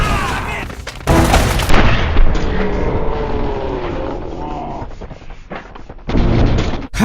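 Gunfire and booms from the Uncharted: Drake's Fortune video game, loud and continuous over several seconds with heavy low-end blasts and a dense game soundtrack, with a louder burst near the end.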